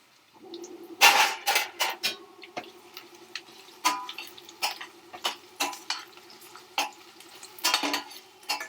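Onions and green chilies stirred in a pan for tomato rice, with a spoon scraping and clinking against the metal over a low sizzle. The sounds come in irregular bursts, close and moderately loud, with no talking.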